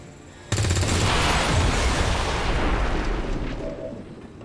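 An explosion erupts in XCOM 2 Long War of the Chosen as a Muton is taken out: a sudden loud blast followed by a rumbling, crackling roar that slowly fades.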